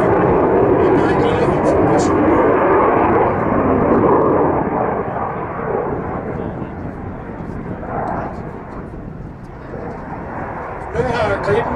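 A JAS 39 Gripen fighter jet flies at the Roskilde airshow, its broad engine roar loud and steady throughout, easing slightly partway through, with a commentator talking over it.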